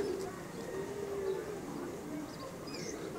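Pigeons coo softly in a pigeon loft, a steady low murmur of overlapping calls that runs without break, with faint rustling in the background.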